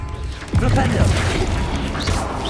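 A Flipendo knockback spell fires in Hogwarts Legacy, a sudden heavy thump and crash about half a second in, followed by loud sustained rumbling game effects.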